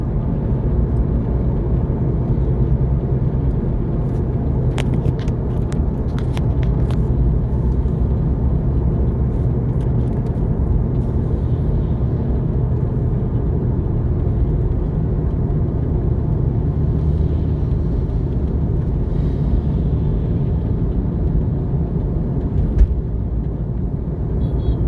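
A vehicle rolling slowly along a congested highway between Conakry and Maneah, a steady low road rumble and engine drone that stays loud and even throughout, with a few faint clicks and no talking.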